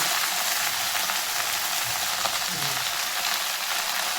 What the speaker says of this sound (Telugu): అదే నూనెలో పుదీనా వేసుకోవాలి.